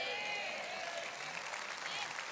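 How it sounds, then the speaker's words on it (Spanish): Congregation at an Easter Sunday church service applauds Jesus, a faint, dense wash of clapping and crowd noise heard at a distance, with a sustained tone running underneath. "Es un aplauso para Jesús"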